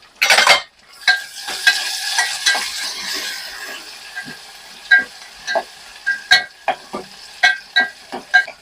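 Tomatoes and onions fry in a pan, a steady close sizzle under repeated sharp scrapes and clinks of a spoon stirring, with a louder burst at the start.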